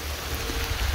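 Rain falling outdoors in the countryside beside a road, a steady broadband hiss with low rumble, continuous and fairly loud throughout with no voices.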